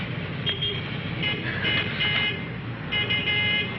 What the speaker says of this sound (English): There's my bus now.